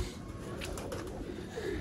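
Game pigeons cooing softly in a steady low murmur, with faint rustling and a few brief brighter flutters over the top.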